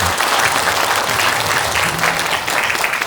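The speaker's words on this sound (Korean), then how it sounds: "박수 한번 주세요." A seated audience at a Korean lecture on suffering and its causes breaks into sustained applause, a dense, even burst of many hands clapping that fills the whole moment without fading.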